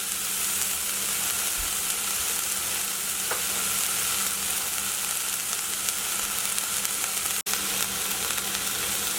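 Vegetables for braised lentils in tomato sauce sizzle in a pan as they soften until translucent, making a loud, steady, close frying hiss that runs unbroken for several seconds.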